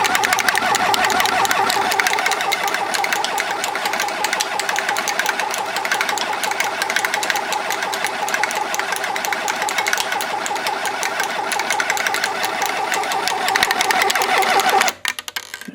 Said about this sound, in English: You can hear the ball when you're rattling, so you know it's doing something.